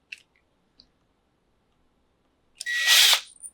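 Power drill driving a screw into the bottom panel of a reptile vivarium rack: a couple of faint clicks, then a short, loud whirring burst lasting under a second, close by.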